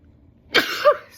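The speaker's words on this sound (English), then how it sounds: "Gotta sneeze." A person sneezes indoors: one sharp, explosive burst with a second strong peak right after, close and fairly loud against a quiet background.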